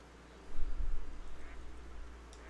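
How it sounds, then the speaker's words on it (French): Ducks quacking in the hunting video game The Hunter: Call of the Wild, a short burst of low, rough quacks in the middle, moderately loud over a quiet outdoor ambience. "j'entends des bruits de canard ou je sais pas quoi"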